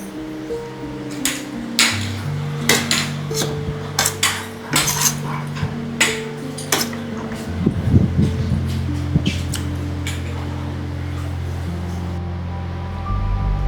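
Plates and dishes are handled at a meal, giving scattered light clinks and clatters at irregular intervals over sustained background music tones.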